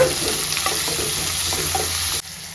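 Chopped tomatoes and onions sizzle steadily in a hot pan for a squid masala, with a continuous loud frying hiss and faint stirring clicks, cutting off abruptly near the end.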